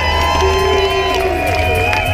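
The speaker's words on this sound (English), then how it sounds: "There's a fantastic crowd here today." A dense, steady roar of hundreds of people gathered outdoors at a march for elephants and rhinos, loud and continuous with mixed voices and faint tonal sounds running through the whole stretch.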